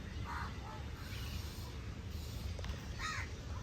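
A crow caws a few times at a distance over a steady low rumble of background noise.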